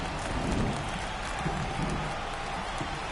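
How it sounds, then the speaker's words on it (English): Steady, fairly faint rain hisses over the ballpark in the MLB The Show baseball video game during a Twins at Angels matchup, a continuous even patter with no clear voices. "It feels like we might be headed towards a rain delay if the weather doesn't ease up, Chris."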